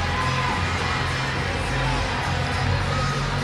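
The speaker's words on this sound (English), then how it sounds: "you can hear the round of applause after what was a very strong fourth quarter for them" Home crowd in a basketball arena after the Windsor Express win a professional game, a continuous loud roar of cheering and clapping that fills the space without letup.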